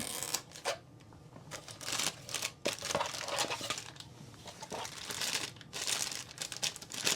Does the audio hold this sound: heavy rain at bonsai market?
no